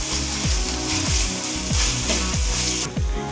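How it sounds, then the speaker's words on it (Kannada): Vegetables with ginger garlic paste fry in hot oil, giving a steady loud sizzle with repeated scraping and stirring knocks from a spoon against the pan, no voices. "ಶುಂಠಿ ಬೆಳ್ಳುಳ್ಳಿ ಪೇಸ್ಟ್ ಚೆನ್ನಾಗಿ ಎಣ್ಣೆಯಲ್ಲಿ ಫ್ರೈ ಆಗಬೇಕು. ವೆಜಿಟೇಬಲ್ ಜೊತೆ ಚೆನ್ನಾಗಿ ಮಿಕ್ಸ್ ಆಗಬೇಕು."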